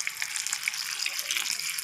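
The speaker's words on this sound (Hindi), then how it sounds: "ये हमने पानी लिया है, इसमें हमने 1 चम्मच नमक डाल दिया है। ये गुनगुना पानी है।" Lukewarm salted water is poured onto dahi vadas in a kitchen, a soft, steady trickling and splashing that runs briefly and fairly quietly.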